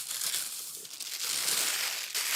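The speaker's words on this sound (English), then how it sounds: "Cody, I'll pull the parchment out, you pick it up." Parchment paper slid out from beneath a baked mushroom and onion crostata, a steady close crinkling and rustling hiss that swells midway and runs for a couple of seconds.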